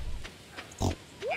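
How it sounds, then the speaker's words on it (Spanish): A pig in Stardew Valley lets out a few short grunts and snorts, quiet and close, with brief gaps between them. "Y el cerdo tenía muchas ganas de darme trufas"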